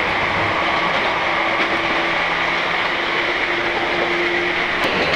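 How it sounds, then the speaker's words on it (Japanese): An Izukyu Resort 21 train running along the East Izu line, a steady loud rumble of wheels and carriage noise with faint tonal hums and a brief squeal near the end. "これが伊豆急の人気電車リゾート21ですが"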